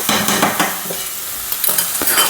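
Onions stirred and sautéing in a pan for a Kerala fish curry with coconut milk, a spoon scraping in several quick strokes over a steady close sizzle, with no voices.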